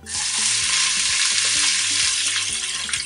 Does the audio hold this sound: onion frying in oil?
yes